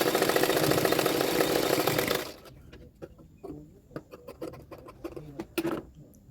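A sewing machine runs at speed for about two seconds, stitching blouse fabric for a boat neck double katori blouse, a dense close whir that stops abruptly, followed by scattered small clicks and fabric handling.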